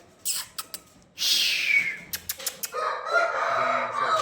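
Roosters crowing and clucking nearby, a long rasping crow among short sharp calls, with a second bird answering toward the end.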